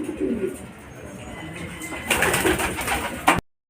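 A racing pigeon at a loft during a club fun race arrival, cooing close by in short bursts, followed by a louder rustling flurry before the sound cuts off.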